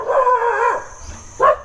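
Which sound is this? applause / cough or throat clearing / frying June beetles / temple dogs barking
temple dogs barking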